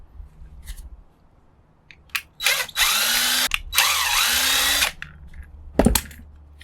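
Two long bursts of a power drill whirring as it backs screws out of a scrapped cash register, each about a second long, with short clicks and handling clatter around them.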